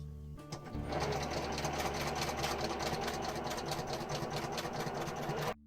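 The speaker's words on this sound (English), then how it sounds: "You put it under your sewing machine and you start sewing it." A sewing machine starts up and runs steadily, its rapid mechanical stitching rattling close by for several seconds before stopping abruptly as it sews quilt blocks.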